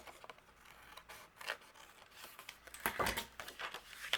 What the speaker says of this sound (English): the excess that's overhanging we'll just trim off